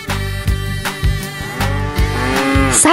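A loud, drawn-out cow moo with rich low harmonics, rising and falling over a steady rhythmic backing, ending with a brief bright chime.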